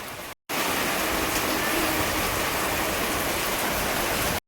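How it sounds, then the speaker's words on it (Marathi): Sudden heavy rain pours steadily outdoors during Diwali as a dense, loud, continuous wash of rushing water, cut off by brief silences at the start and end. "अचानक आता कधीही पाऊस पडतो आहे"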